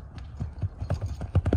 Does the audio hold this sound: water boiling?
no